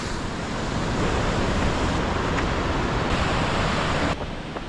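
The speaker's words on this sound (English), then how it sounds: "Waterfall." A waterfall in Norway's Flåm Valley roars steadily nearby, a dense, continuous rush of falling water with no voices.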